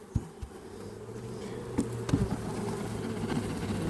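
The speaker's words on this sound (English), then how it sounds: "All those bees that are in there, I'm going to shake them out and put them in there." Honeybees buzz close and loud after being shaken out of a hive box, a dense droning hum with a few sharp knocks and thumps from the box scattered through.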